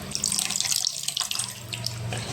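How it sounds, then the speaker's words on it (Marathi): Water splashes steadily into a pot of Maharashtrian-style fish curry, a bright continuous pouring sound with the pitch shifting slightly as it fills. "पाणी टाकू"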